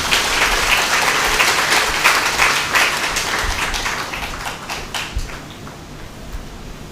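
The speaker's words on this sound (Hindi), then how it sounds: "ऐसे नित्य दानियों के लिए एक बार जोरदार ताली भी बजाई।" An audience at a satsang in an ashram near Lucknow claps loudly for donors, a dense round of applause that is strong at first and tapers toward the end, with no speech over it.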